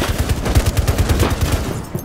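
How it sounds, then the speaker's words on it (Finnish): Rapid automatic gunfire in a first-person shooter video game, a fast steady burst of shots repeating close and loud for about two seconds with no talk over it. "Mua ammutaan seinän läpi."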